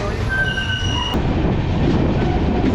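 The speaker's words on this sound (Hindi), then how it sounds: "पलक्कड़ से हमारी ट्रेन का डिपार्चर।" An express passenger train pulling out of Palakkad station in Kerala, with a steady loud rumble of wheels and carriages, a faint high squeal of wheels on rails early on, and no talk.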